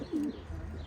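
A racing pigeon readied for a 1200 km race gives a single short, low coo, close and clear over quiet background noise.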